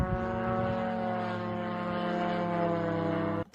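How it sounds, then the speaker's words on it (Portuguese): A Lyut attack drone flies past, its propeller engine droning loud, steady and slow with a low buzzing hum that holds throughout, then cuts off abruptly near the end. "Esse é um drone loot,"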